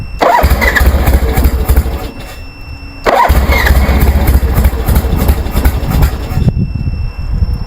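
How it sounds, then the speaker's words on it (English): A 1973 Harley-Davidson Sportster fitted with CV40 carburetors cranks and fires up twice, settling each time into a loud, rough, loping idle before cutting out near the end. "we need to turn the idle up a little bit."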